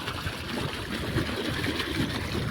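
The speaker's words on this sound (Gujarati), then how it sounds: "ગુંદરીમાં અત્યારે પાણી વારે છે" Irrigation water runs through a field channel on a farm, making a steady, moderately loud rushing and trickling wash with no talking.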